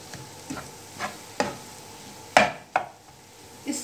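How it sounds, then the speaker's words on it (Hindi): Boiled, mashed potatoes being worked into a spice mixture for dabeli filling, with soft scraping stirs of a spoon against the pan recurring every half second or so, a few sharper clinks standing out, close and fairly quiet with no talking. "अब इसे हम अच्छी तरह से मिक्स करेंगे।"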